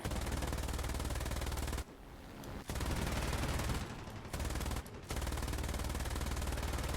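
Machine guns on a BF 109 E-1 fighter in War Thunder hammer out long, rapid bursts, with two short pauses splitting the fire into three loud streams.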